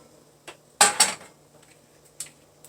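A cooking pan picked up and set down on a kitchen counter, giving a couple of bright metallic clanks close together, then a few fainter taps and clinks in a quiet room.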